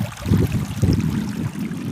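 A river stream rushes steadily over stones at Jayanti in the Dooars, North Bengal, close and continuous, with no talking.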